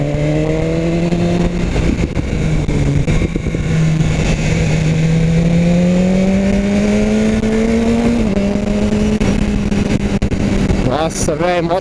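A BMW S1000 R motorcycle engine pulls hard on a test ride, its pitch climbing through the gears in sustained rising drones with brief dips at shifts, close and loud under steady wind roar, and a rider talks over it.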